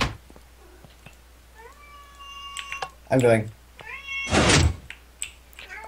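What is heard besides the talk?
cat meowing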